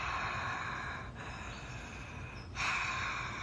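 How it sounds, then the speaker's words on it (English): Someone doing yoga breathing exhales steadily through an open mouth as if fogging a hand, producing a soft, continuous, ocean-like breathy hiss close up, with a brief pause and then a slightly stronger breath. "try to make pretend fog on your hand. So you go, that sound, it's kind of like the ocean."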